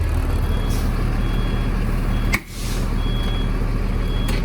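A 2004 Thomas FS65 school bus with an Allison transmission reverses, its back-up alarm beeping steadily over a loud idling diesel engine, with a short hiss of air brakes midway.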